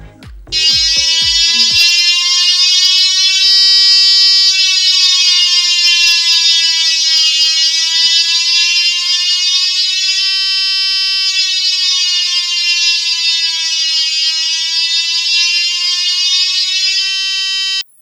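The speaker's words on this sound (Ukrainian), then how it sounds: "Це був звук сповіщення про повітряну тривогу." A loud, steady electronic air raid alert tone from a U-Prox notification system, with slow wavering pitch, sounds continuously for about sixteen seconds, preceded by a few brief clicks.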